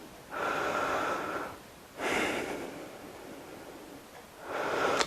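Three heavy, drawn-out breaths during a home fat-loss workout, each a long airy exhale in steady rhythm, close to the mic with quiet pauses between and no talking.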